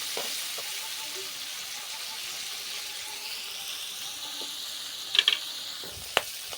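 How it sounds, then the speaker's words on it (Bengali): Prawns fry gently in oil on low heat in a pan, a soft continuous sizzle close by with a couple of brief utensil clicks near the end. "হালকা আঁচে মাছটা আমি ভেজে নেব"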